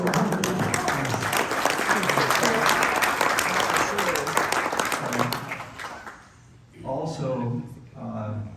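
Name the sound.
audience applause for a couple married 65 years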